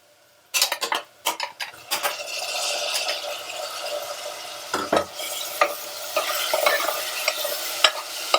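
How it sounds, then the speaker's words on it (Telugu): Tomatoes go into a pressure cooker of frying onions for tomato rice, with a burst of sharp metal spoon clatter against the pot, then steady sizzling under repeated stirring scrapes and clinks, close and fairly loud. "ఇప్పుడు టమాటాలు వేసుకుందాం మనం."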